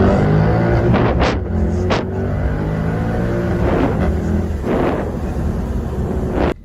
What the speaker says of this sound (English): get into manual, drop a gear, drop a gear, drop a gear again